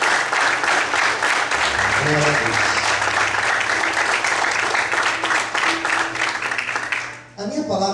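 A church congregation gives a strong round of applause, dense and sustained for about seven seconds before tapering off, while a voice and faint musical tones carry over it.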